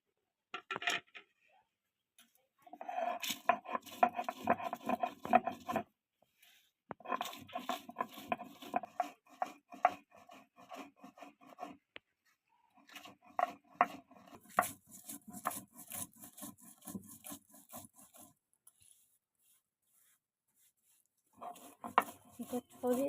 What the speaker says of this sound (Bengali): আমি এবার ভাজা মশলাটা গুঁড়ো করে নেব।